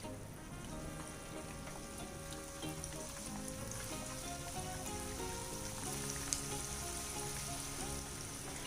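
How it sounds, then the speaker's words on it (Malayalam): Chicken kabab pieces fry in hot oil, street-stall style, giving a steady, dense, close sizzle and crackle that holds evenly throughout with no voices. "ഇനി നമുക്ക് ബാക്കിയുള്ളതും കൂടെ ഇതുപോലെ ഫ്രൈ ചെയ്തെടുക്കാം"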